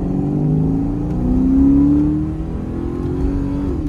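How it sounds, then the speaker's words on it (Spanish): A 2002 Ford Mustang GT V8 revs loudly up close, its engine note climbing to a sustained high peak around the middle before easing back down, steady and continuous with no talking. "Aquí Lalito nos dio otra demostración de poder del Mustang"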